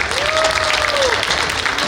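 Steady applause fills an auditorium at a convention, dense continuous clapping from a large audience with a brief voice rising over it.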